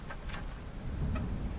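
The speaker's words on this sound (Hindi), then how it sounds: "लगातार बारिश हो रही है" Steady nighttime rain falls during a slow ride along a muddy road, a continuous soft hiss with scattered light ticks over a low rumble, with no talking.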